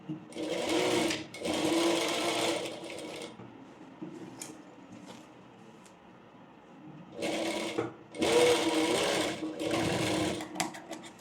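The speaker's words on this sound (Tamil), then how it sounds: "கட் பண்ணி வச்சுட்டு இந்த வி ஷேப் இப்போது ஸ்டிச் பண்ணணும் ஒரு 1/4 இன்ச் அளவு" A sewing machine stitches a quarter-inch V-shape on a layered frill frock in two bursts of rapid whirring, with a quiet pause between them and no voices.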